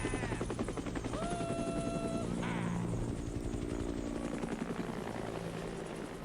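Helicopter flying in the Dead Rising video game, a continuous chopping rotor beat over low engine drone, with brief tonal game sounds layered on top early on.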